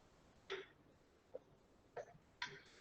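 Several short, dry coughs from a person during a church preaching meeting, three or four irregular bursts spread over a few seconds, faint and distant against a quiet room.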